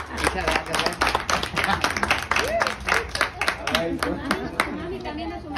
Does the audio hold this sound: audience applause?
yes